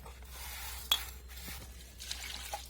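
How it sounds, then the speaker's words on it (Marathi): Rice and pigeon pea lentils are rinsed in water in a village kitchen, with soft sloshing and trickling plus a few faint clinks of a vessel, quiet and close. "तांदूळ आणि डाळ आपल्याला लगेच धुवून घ्यायची"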